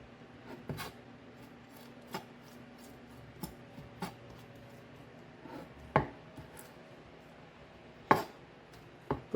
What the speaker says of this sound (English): Scrape those seeds out.